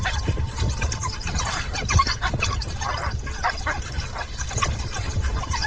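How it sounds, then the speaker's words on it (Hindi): Several African wild dogs snarl and yip together in a rough, continuous scuffle close by beneath a tree, with growls overlapping one another. "वे तने के नीचे झुंड बनाकर गुर्राते हैं"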